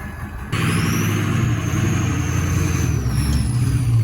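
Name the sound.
lifted off-road welding truck with 5-inch semi-stack exhaust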